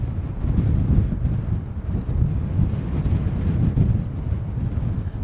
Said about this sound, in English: it's just silly windy